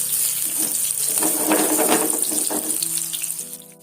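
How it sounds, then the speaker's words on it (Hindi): Round gourd (tinda) pieces frying in hot oil in a home kitchen, giving a steady close sizzle and crackle that holds throughout and eases slightly at the end. "अच्छे से मैं फ्राई कर लूँगी।"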